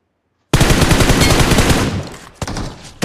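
In the battle royale mobile game BGMI, a loud burst of automatic gunfire starts abruptly after a short silence, rattles rapidly for about a second and a half, fades, then two single shots crack near the end.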